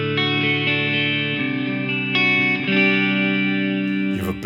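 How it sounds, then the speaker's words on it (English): Electric guitar chords played through a big reverb effect plugin with overdrive, sustained distorted notes blooming into a long, washy tail, each chord change ringing over the last. "make it quite a big reverb."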